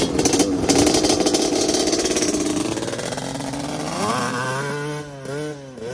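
A Yamaha ATV (Blaster or Banshee) engine runs loud and close, a buzzy two-stroke drone that holds steady, then revs and pulls away with rising and falling pitch as the quad rides off.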